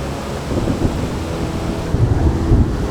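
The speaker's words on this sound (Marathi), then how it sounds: "हे बघा किती जोरदार हा पाऊस पडतोय आणि हा धबधबा वाहतोय" Heavy monsoon rain and a gushing waterfall near the Nagnath Buddhist Caves make a loud, close, unbroken roar of rushing water with deep rumbling surges, and no voices.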